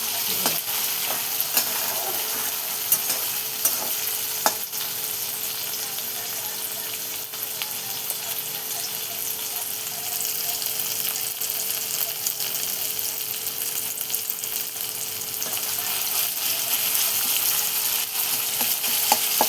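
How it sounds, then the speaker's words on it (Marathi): Tomatoes, chillies and garlic sautéing in a pan: a steady, close sizzle of frying with stirring scrapes, continuous and fairly loud without a break for the whole stretch, no voices. "छान असा आपण परतून घेऊया सगळं टमाटर मिरच्या आणि लसूण"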